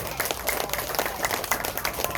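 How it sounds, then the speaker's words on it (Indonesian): A small audience claps at a Democratic Party gathering for legislative candidates, with a brief, somewhat uneven round of hand claps heard up close. "Tepuk tangan."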